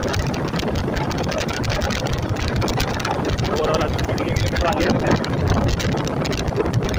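A steady engine roar with heavy wind rush, as if heard from a moving motorcycle, loud and constant throughout with no clear talk.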